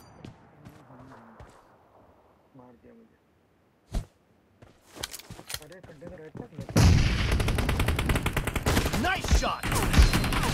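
Rapid bursts of shotgun gunfire in a video game team deathmatch, starting with a single loud shot and then building into dense, continuous firing near the end, with voiced game callouts heard earlier.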